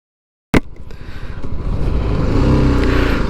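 After a sharp start, a BMW G310 GS BS6 motorcycle pulls away in first gear, its single-cylinder engine rising in a smooth, close, steadily building drone.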